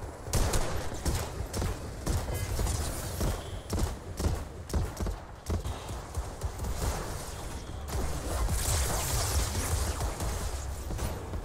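Rapid gunfire in the game Fortnite, with a steady stream of sharp shots and bursts, close and loud, running almost without pause throughout.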